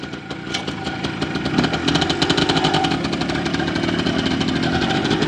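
An old motorcycle being brought back to life runs with a steady, rapid engine chatter close by, its revs rising slightly and then holding level.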